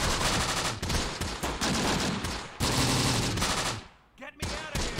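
.30 cal machine gun team firing in Close Combat: The Bloody First, set in Tunisia, with long loud sustained bursts, brief gaps between them and a sharp cutoff near the end, with a little speech underneath.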